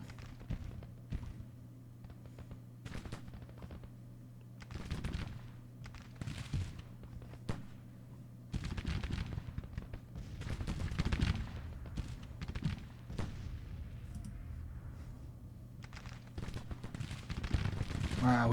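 Musket volleys in the Civil War strategy game Grand Tactician at the Battle of Bull Run, with scattered crackling shots and rolling bursts of fire at a distance, fairly faint and repeating irregularly over a low steady rumble.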